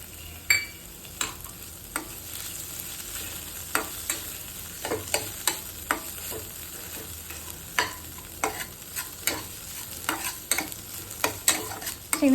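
Ridge gourd gravy simmering in a pan, a spoon scraping and clacking against the metal in irregular bursts over a soft steady sizzle, no talking.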